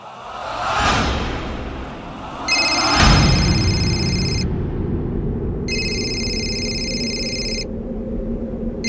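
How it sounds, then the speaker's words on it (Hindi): A telephone rings in two long electronic trilling bursts separated by a pause, following a brief whoosh and a low rumble. "किसका फोन है?"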